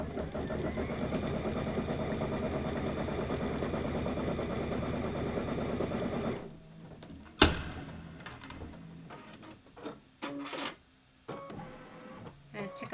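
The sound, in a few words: sewing machine stitching quilt borders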